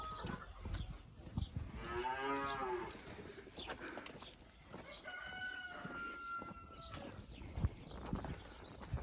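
Cows on a farm pasture of ryegrass moo in long, low, drawn-out calls, one fairly close, with farmyard noise and a rooster-like call in the background.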